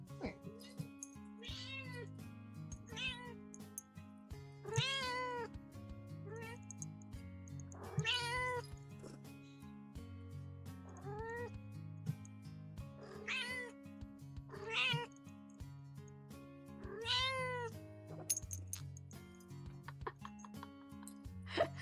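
A house cat meows repeatedly in a series of rising and falling calls spread across the stretch, fairly close, over steady background music and some voices.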